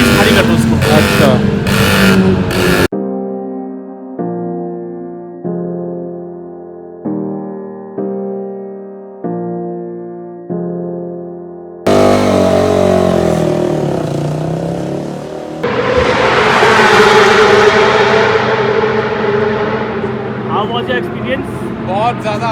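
Motorcycles roar along a race track pit lane, loud broadband engine blasts at the start and again through the last ten seconds, separated by a stretch of repeating tonal pulses.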